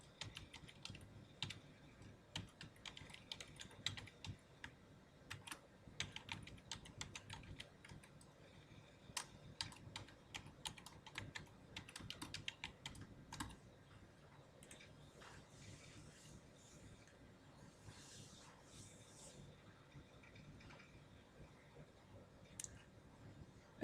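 Computer keyboard typing of an email address and password, a busy run of quick, close key clicks with short pauses, fairly quiet and with no talking.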